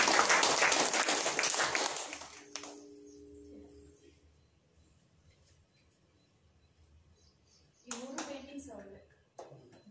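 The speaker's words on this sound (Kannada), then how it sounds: "ಜೋರಾಗಿ ಚಪ್ಪಾಳೆ" A gathering at an Environment Day celebration claps loudly for a child's painting, a dense burst of applause lasting a couple of seconds, then quiet room tone and later voices talking.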